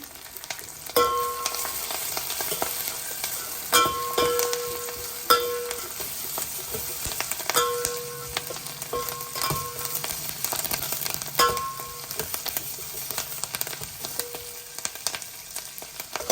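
Sliced carrots with turmeric fry and sizzle in a pan, a continuous crackling hiss broken by repeated sharp scrapes and clinks of a spatula stirring against the metal.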